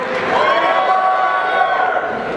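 A convention audience at the Otakon Vegas 2014 opening ceremonies cheers and applauds in a continuous, loud wash of crowd noise. A host's voice talks over it.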